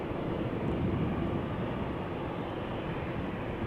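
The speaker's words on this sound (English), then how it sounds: "Now we've got two triples coming this way that have just landed on Polderbaan." Two Boeing 777s taxiing at Amsterdam Schiphol after landing on the Polderbaan, a broad, even low engine rumble that stays steady and fairly strong throughout, with no voices.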